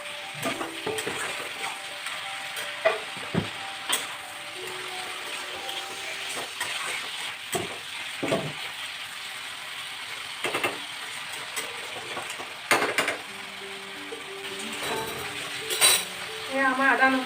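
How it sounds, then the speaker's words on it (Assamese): Chopped onions with ginger and garlic fry in a pan for a mutton korma, a soft steady sizzle with intermittent clinks and scrapes of a spoon stirring, while someone talks now and then. "আমাৰ আদা নহৰু গোন্ধ মৰিছে, পিঁয়াজখিনি ধুনীয়াকৈ ফ্ৰাই হৈ গৈছে।"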